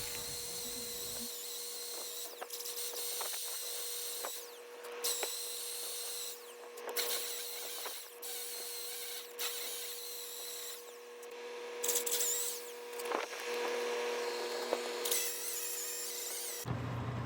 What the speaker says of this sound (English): once you remove the majority of the rust with the wire wheel